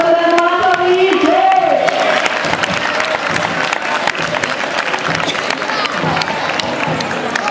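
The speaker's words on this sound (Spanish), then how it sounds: "Per favor, un fort aplaudiment, no?" A street crowd at a satirical carnival-style ninot parade claps and cheers loudly, thick applause holding throughout with shouts and babble mixed in and a voice speaking over the start.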